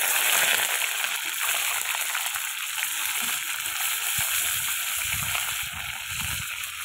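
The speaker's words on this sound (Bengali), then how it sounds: "ডিমটা এবার ভেজে নেবো তেলে।" A boiled egg fries in hot oil, giving a steady, close, bright sizzle with light crackling that runs the whole time without pause or talk.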